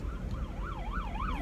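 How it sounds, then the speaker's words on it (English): An ambulance siren wails in a rising and falling pattern, moderately distant and fairly faint over low traffic rumble, as heard from a car stuck in traffic. "oh, there's an ambulance."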